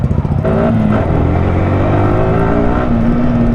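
Yamaha R15 M sport motorcycle engine revving loud and close, a steady high drone with rising and falling pitch sweeps as the throttle opens and eases.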